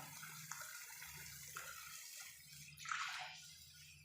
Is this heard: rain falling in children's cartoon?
no